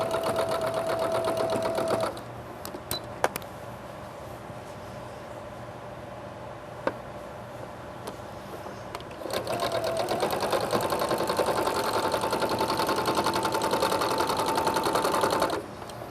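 A sewing machine runs along the hood seams of a scoodie scarf with a loud, close, steady mechanical hum. It pauses briefly in the middle amid faint clicks, then resumes stitching at full speed.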